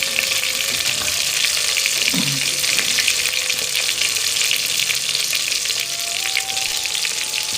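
Onions sizzle and fry in ghee in a pan for aloo matar, a steady, close, even crackle that holds throughout with no talking.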